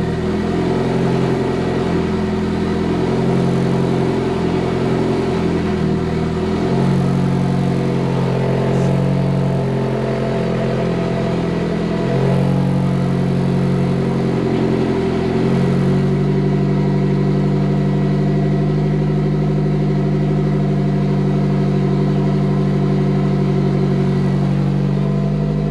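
A Mazda Miata fitted with GT500 fuel injectors starts and runs, settling into a steady, loud, close idle with slight rpm fluctuations throughout.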